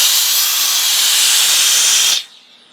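A Wagner Spraytech steam cleaner hisses loudly and steadily at close range for about two seconds, then the hiss cuts off abruptly, leaving a faint fading residual hiss.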